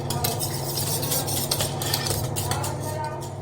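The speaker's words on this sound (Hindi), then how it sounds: "और ये नमक, और अब इसको अच्छे से मिक्स कर लेते हैं।" Salt and gram flour are stirred into buttermilk in a bowl, giving soft, repeated scraping and light clinks of a utensil against the vessel under a low background hum.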